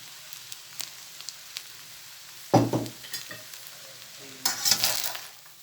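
Bean sprouts tossed into a pan of stir-fried noodles with fresh shrimp: a low sizzle punctuated by spatula scrapes, then two louder bursts of hissing and clattering as the mix is stirred, close up with no voices.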